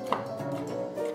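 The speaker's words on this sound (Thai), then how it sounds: "อันนี้เราก็หั่นให้เล็กลงนิดนึงค่ะ" A knife cutting fingerroot (krachai) on a board for a Thai fish curry, a single soft chop heard faintly and up close beneath a steady background hum.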